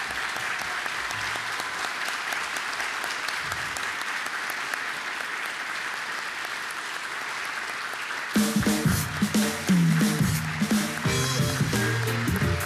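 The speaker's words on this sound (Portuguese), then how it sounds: "calorosa salva de palmas." Warm applause from a seated audience for standing honorees at a commerce awards ceremony, steady clapping throughout that turns louder and closer near the end, with music rising under it.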